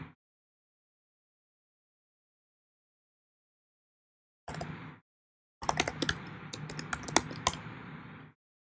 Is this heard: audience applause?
no